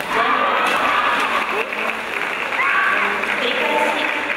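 Sustained, dense applause from the audience at a high school national kendo tournament, men's individual quarterfinal, filling an arena at steady loudness for the whole stretch, with faint voices mixed in.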